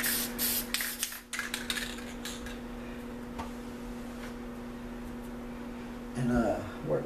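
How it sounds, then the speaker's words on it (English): Aerosol spray paint can spraying white paint onto a dragon artwork, a steady hiss running almost the whole time with a few short bursts and clicks, fairly close and loud, with a steady hum beneath. "And then we're going to spray white."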